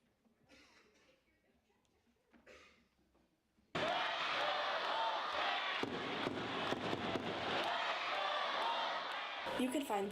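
A crowd at a Hartford Wolfpack hockey game erupts into loud, sustained cheering and roaring after a quieter stretch with some talking, the noise holding strong to the end with whoops and a sharp bang.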